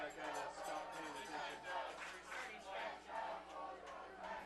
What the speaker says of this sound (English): Crowd starting to get into the game here at Grandview High School. Good Bulldogs chant.